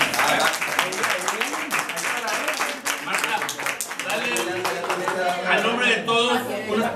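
A room of people claps steadily in lively applause at a Christmas posada at a children's home while voices chatter and cheer over it.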